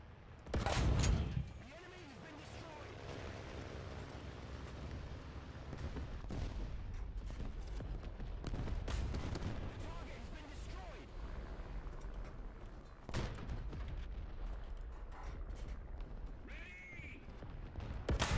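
Tank cannon shots from a T25 in War Thunder boom out amid battlefield noise, with a loud close blast early, further sharp reports around the middle and later, over a steady rumble of engines and distant fire.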